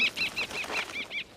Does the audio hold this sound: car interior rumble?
no